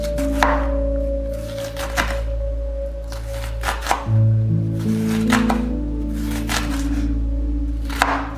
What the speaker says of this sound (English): Chop those onions.